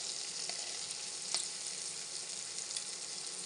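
Peas fry in hot oil with a steady, dense sizzle and crackle throughout, close and even, with an occasional small pop.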